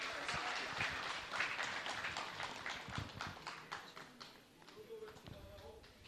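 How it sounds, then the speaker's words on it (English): An audience gathered outdoors at the Swahili Pot in Mombasa claps after a speech at a finance bill public participation forum, a dense patter of hand claps that thins and fades toward the end. "I think he deserves a bigger round of applause"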